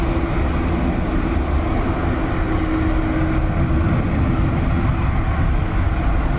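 An ATR turboprop airliner at Dublin Airport drones steadily with a loud, continuous low rumble and a faint propeller hum, in windy, wet weather and with no voices.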